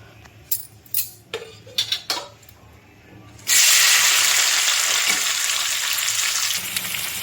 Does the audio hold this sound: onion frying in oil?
yes